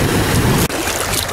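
Sea waves break along the shore at Rostock, Germany, a loud steady rush of surf with wind buffeting the microphone, cut by a brief dropout partway through, with no voices.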